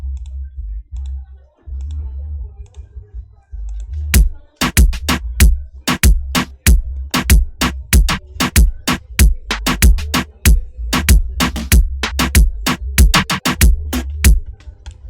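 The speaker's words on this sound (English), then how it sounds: "the drums, all the drums sounds like this" A reggaeton beat's dry, sparse drum pattern of sharp clicky hits over a low thumping bass pulse, loud and rhythmic, building after a quiet start.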